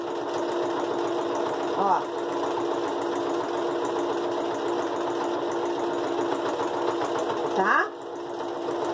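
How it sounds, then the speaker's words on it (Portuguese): A sewing machine stitches the finishing seam on a hexagonal fabric hot pad, a fast, steady mechanical whir running continuously while someone speaks briefly over it. "Segura e vamos costurar."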